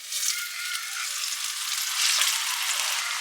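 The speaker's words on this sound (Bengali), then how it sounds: "ইনিশিয়ালি কিন্তু এই চিকেনের পিসগুলো জাস্ট ফ্রাই করে নেব" Marinated chicken pieces for chicken chaap fry in hot oil in a pan, giving a dense, continuous sizzle that holds steady and swells slightly toward the end.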